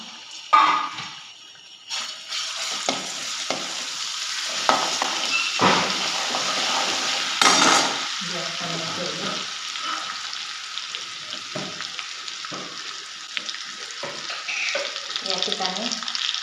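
Ginger garlic paste fries in a hot pan for dal khichdi, giving a steady, fairly loud sizzle that runs the whole time, broken by scraping stirs and a few sharp taps.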